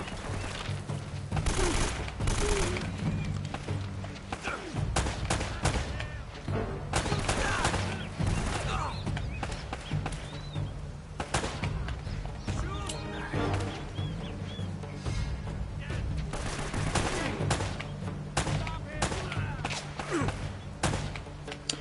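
Sniper gunfire in Uncharted: Drake's Fortune: a steady barrage of sharp shots and heavy thuds from an ongoing firefight, with echoing impacts, running dense and loud throughout.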